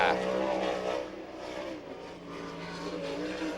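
Sprint race car on a qualifying lap at Grandview Speedway in Bechtelsville, Pennsylvania, during a 1999 All Star Circuit of Champions event; a steady, droning engine whine holds across the whole stretch, heard from some distance and dipping slightly midway.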